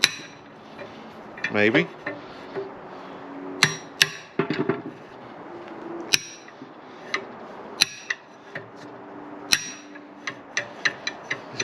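Sharp metallic hammer strikes knocking plastic bushings out of a CF Moto 800 Trail control arm, scattered irregular taps and clanks with brief pauses, close by, with a short spoken word in between.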